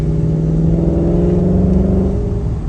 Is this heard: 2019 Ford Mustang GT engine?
yes